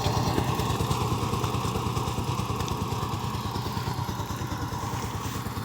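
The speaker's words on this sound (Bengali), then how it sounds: "পাওয়ার টিলার দিয়ে জমিতে মই দেওয়া হচ্ছে।" A 16-horsepower power tiller with an 18-blade harrow works a field in second gear, its engine chugging in a fast, even, steady rhythm, close and loud throughout.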